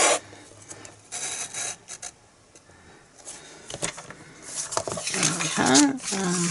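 A paper trimmer slices sections from cardstock for a tent-style Christmas gift box, giving scraping, rasping blade strokes that grow louder and busier toward the end, with some faint handling noise.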